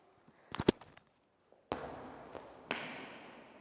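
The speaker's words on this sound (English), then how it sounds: "We're trying to push that ball and throw that ball as far as we can down here" A ball thrown with a two-handed chest pass in a cricket power test, giving a sharp thud on landing followed by a couple of bounces, fairly near and alone.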